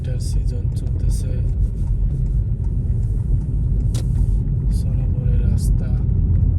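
A car drives along a rough winter road in Tikkurila, Vantaa, Finland, its steady low road rumble and tyre noise continuous throughout while someone talks over it.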